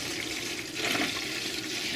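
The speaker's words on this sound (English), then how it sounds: "Pour in your water. We're going to fill that up." Water is poured into a humidifier tank as a continuous, fairly close splashing stream with a steady level throughout.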